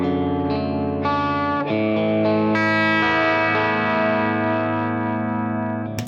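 Suhr Classic S electric guitar with a paulownia body, played through its bridge and middle pickups in a clean setting, ringing chords and sustained notes carrying on steadily and close, with no voice over them.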